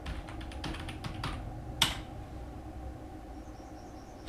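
Computer keyboard typing in Canva, a few quick soft key taps, then a sharper single click, all faint and close in a quiet room.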